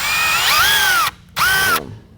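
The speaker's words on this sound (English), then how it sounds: "we're going to slowly start drilling right on this center point through the" A power drill boring a pilot hole through gaffer's tape on a helmet: two whining bursts, the motor pitch rising and then sagging under load, with a short silent gap between them.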